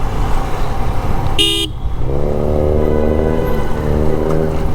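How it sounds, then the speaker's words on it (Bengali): A car's exhaust gives a continuous loud rumble while driving, interrupted by a short horn toot, with a rising engine drone afterward. "ওই এক্সজস্টের সাউন্ড"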